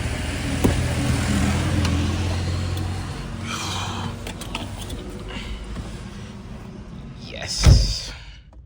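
A car key fob with an Iron Man keychain unlocks the car at night, soft clicks and handling noise followed by a sharp, louder thump of the door opening near the end.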